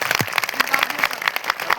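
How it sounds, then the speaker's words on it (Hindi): A crowd claps at a village protest rally against a dam, giving a dense, close patter of hand claps that runs throughout, with voices mixed in. "जोरदार ताली बजा लो"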